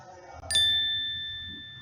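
A single notification bell ding rings out cleanly after a brief low murmur, striking once with a bright metallic tone that then decays slowly, clear and close.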